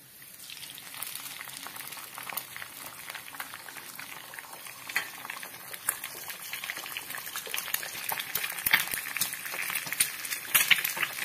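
Cumin seeds sizzling in a hot pan after two eggs were cracked in, a steady crackling hiss with popping spits that grows gradually busier and louder, close and without voices.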